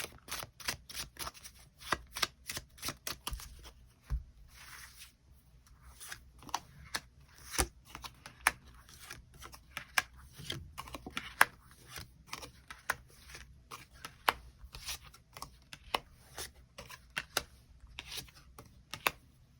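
Tarot cards shuffled and drawn in a reading: a long run of crisp, close card flicks, slaps and rustles coming in uneven bursts, with no talking.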